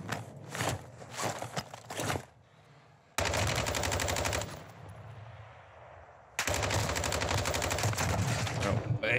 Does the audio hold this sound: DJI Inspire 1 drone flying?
no